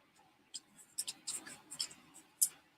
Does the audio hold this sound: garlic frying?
no